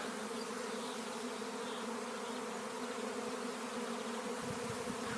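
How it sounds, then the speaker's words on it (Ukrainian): A honey bee swarm drones around a hive in a dense, continuous buzz that stays even and full for the whole stretch, with no voices over it. "бджоли дуже багато"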